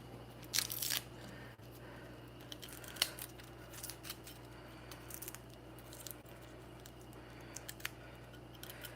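Fresh garlic cloves are squeezed through a garlic press while making vegan stuffed mushrooms and red pepper pasta. A few quiet crunching squeezes come early, then softer crackles follow against a faint, low background hum.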